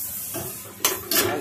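Garlic and onion sauté in a pan, with a soft sizzle under two short scraping stirs of a utensil against the cookware, close and fairly quiet.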